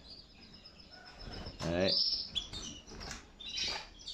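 Several pet canaries about to be shipped give short, faint chirps and tweets, scattered and brief with small gaps, while a person speaks softly nearby.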